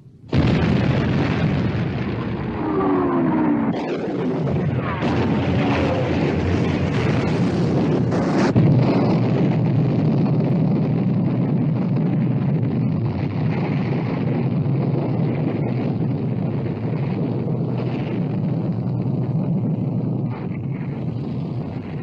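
Battleship guns firing and shells exploding in a WWII Royal Navy versus Kriegsmarine naval battle: heavy booms and bursts over a continuous roaring, wind-buffeted background, loud and sustained without speech.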